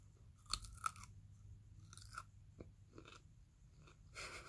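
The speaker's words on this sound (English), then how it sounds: "let's listen to vegetable ASMR" Crunchy raw carrots are bitten and chewed close to the mic, several sharp crunches followed by softer chewing in a quiet room with no talk.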